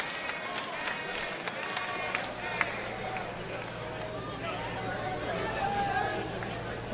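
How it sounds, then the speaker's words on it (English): Stadium crowd at a baseball game in the top of the ninth inning, a steady broad roar of hubbub and chatter that swells gradually, with scattered shouts and a brief sharp clap near the middle. "the crowd builds with every pitch"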